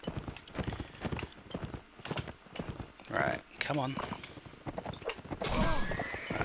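Horse galloping with clip-clop hooves and neighing in a Roman invasion battle game, with someone talking briefly over the hoofbeats and a loud whinny near the end.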